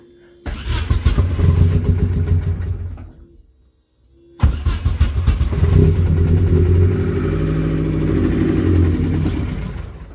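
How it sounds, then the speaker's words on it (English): A car engine that has just been repaired after a fire and a suspected fuel pump fault cranks and catches, runs briefly, then cuts out. It restarts moments later and keeps running with a loud, steady idle. "So now I'm just gonna check if the car's gonna start."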